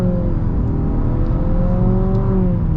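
A 2023 Nissan Altima VC-Turbo with a CVT accelerating at full throttle, a loud, steady engine drone heard from inside the car, its pitch climbing smoothly with no gear steps and no talk.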